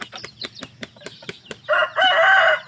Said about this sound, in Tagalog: Sa isa buntag mga kananay mao ni feeds ato ni ipakaon sa atong mga alaga nga piso.